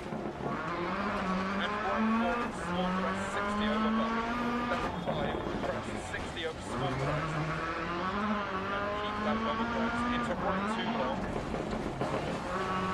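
2007 Ford rally car in the Dirt Rally video game on a snowy Swedish stage, its engine revving continuously with rising and falling pitch through gear changes, loud and steady throughout.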